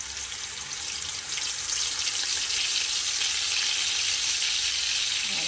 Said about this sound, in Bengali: গরম তেলের মাঝে একটু জিরা দিলাইমু, দিলাইমু পরিমাণ মতো রসুন আর পেঁয়াজ।